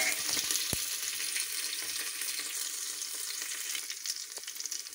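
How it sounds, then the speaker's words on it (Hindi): Onion and green chili fry in a pan with a dense, bright sizzle and a few quick knocks of a utensil stirring, steady and close at moderate level with no speech. "इसे 2 मिनट तक भूनें, हमें ज़्यादा ब्राउन नहीं करना है।"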